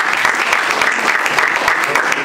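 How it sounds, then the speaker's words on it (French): Loud, dense applause from an audience fills the whole stretch, many hands clapping together in an even, sustained roar without a break. "je veux que vous applaudissiez"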